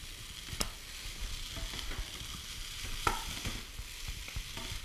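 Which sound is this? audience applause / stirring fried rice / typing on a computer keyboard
stirring fried rice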